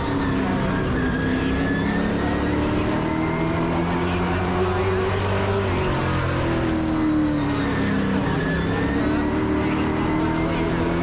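Race trucks in a Truck Series event accelerate together back to green flag racing, a loud dense roar of multiple engines rising and shifting pitch throughout, with faint crowd or announcer noise underneath.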